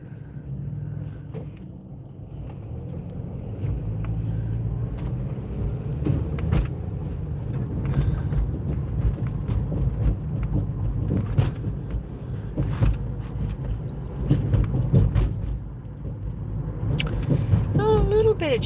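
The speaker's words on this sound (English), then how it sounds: "Bit of traffic right here." Cars pass steadily along a town road in winter, a continuous low rumble of traffic swelling and fading as vehicles go by, fairly close, with no talk over it.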